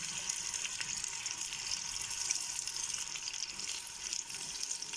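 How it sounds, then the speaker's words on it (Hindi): Sliced onions and whole garam masala frying in hot oil, a steady close hissing sizzle that continues evenly without pauses. "because my oil is heated and now I am going to add my sliced onions"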